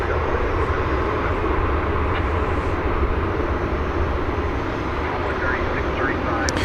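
A long-haul airliner arriving at Dallas Fort Worth airport after a flight from Brisbane fills the air with a loud, continuous jet-engine roar that stays steady throughout, with faint talk under it.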